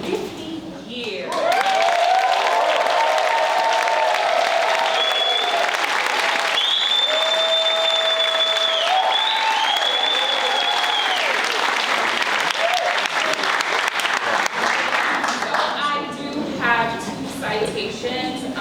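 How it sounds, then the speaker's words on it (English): Sustained audience applause at a 50th anniversary community celebration, loud and steady for over a dozen seconds, with voices and a few cheers mixed in before it fades into scattered claps. "can we give another round of applause, celebrating 50 years?"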